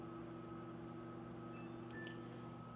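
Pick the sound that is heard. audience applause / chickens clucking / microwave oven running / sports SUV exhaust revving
microwave oven running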